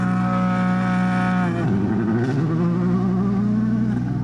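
A rally car on a dirt special stage at the 2024 Rally of Canberra idles loudly with a steady harmonic drone, then launches hard at the start, its engine note rising and changing as it pulls away.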